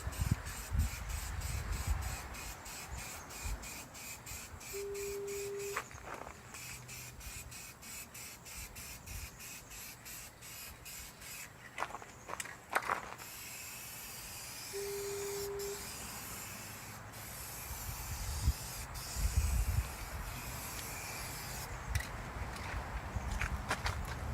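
Spray painting an even top coat onto a shuttle bus being converted into an RV, with bursts of aerosol hiss running several seconds each, broken by short pauses and faint movement, fairly close.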